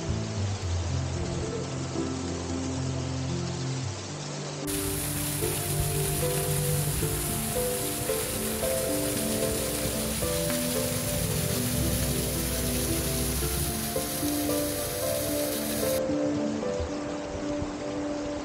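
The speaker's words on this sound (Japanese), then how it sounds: "滝も流れています。" Waterfall water pouring steadily as a broad, continuous rush in a green spring gorge at Korankei, with no talk over it.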